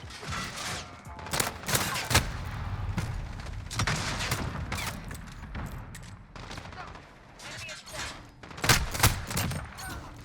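Snakeshot guns in Call of Duty fire together in rapid, loud overlapping bursts, clustered blasts with short gaps between volleys.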